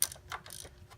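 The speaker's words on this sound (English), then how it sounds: "get your 13mm socket, put it on, break it loose" A 13mm socket on a ratchet breaks loose the oil drain bolt on a BMW E46 M3, giving a short burst of close ratchet clicks and metal mechanism noise, quiet and alone.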